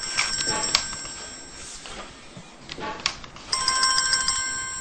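Indoor telephone ringing in bursts of bright electronic trills, with a short pause in the middle before the ring starts again, fairly clear and moderately loud.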